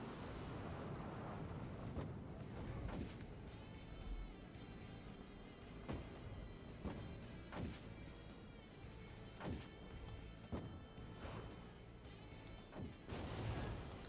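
Grenadiers firing artillery in the Act of Aggression video game: a quiet, repeated series of sharp thumping blasts at irregular intervals over a low battlefield rumble.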